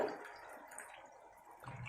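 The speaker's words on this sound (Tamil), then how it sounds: "ஒரு பெரிய சைஸ் லெமன் அளவுக்கு புளியை எடுத்து கரைச்சி வச்சிருக்கேன், அதை ஆட் பண்ண போறேன்" Tamarind water pouring into a simmering sundakkai kuzhambu, a Tamil tangy gravy with green turkey berries, giving a soft continuous liquid splash close by, steady for about two seconds with no talk.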